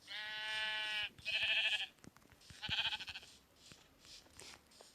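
Three bleats of a sheep in Minecraft, the first long and wavering, then two shorter ones, fairly close, followed by quiet ticking.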